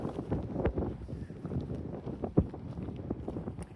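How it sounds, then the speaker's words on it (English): Gusty wind buffets the microphone throughout, a continuous low rumble with sharper blasts and thumps, no voices heard. "it's so windy right now."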